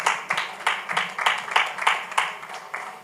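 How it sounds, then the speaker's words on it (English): Audience applauding a speaker at a conference on technology and political action in Africa, steady dense clapping from a crowd, fairly loud and even throughout. "Please, a round of applause for her."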